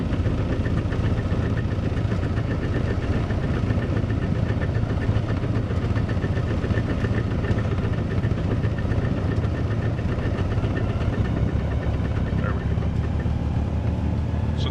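An aircraft engine runs at about 2,000 RPM after the choke is pulled off. It gives a loud, steady, close drone with a rough pulsing texture that holds throughout, with speech mixed in.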